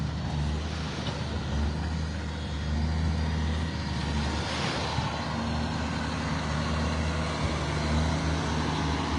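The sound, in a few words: trucks lining up on a beach road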